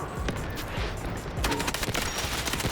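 Rapid automatic gunfire in the Delta Force video game, a loud, continuous stream of close shots with sharper cracks in the second half over a dense battle din.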